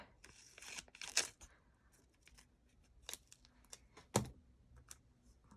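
Scissors cut a paper flower sticker in half on a budget planner page, giving a few close, crisp snips and crinkles in short bursts with quiet pauses between them.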